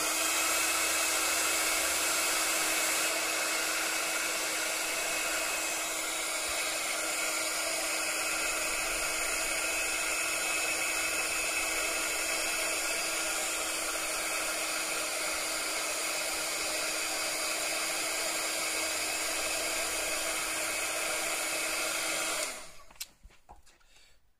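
A heat gun blows hot air to dry and melt embossing powder on a homemade embellishment, a loud steady whirring hiss with a fixed motor whine that runs nearly half a minute before switching off near the end.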